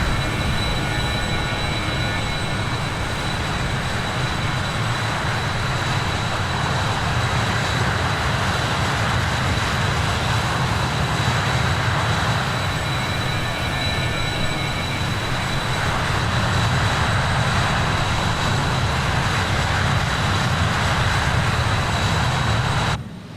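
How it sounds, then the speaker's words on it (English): Steady, loud engine roar of a Northwest RJ85 airliner in Microsoft Flight Simulator 2020, a constant broadband drone with a faint high whine that holds evenly for over twenty seconds without talk. "Let's listen to the engine noise."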